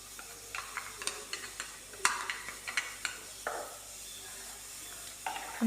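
Ground paste stirred into a curry in a pot, with a run of soft scraping strokes against the pot at a steady rhythm over a faint background, close and quiet.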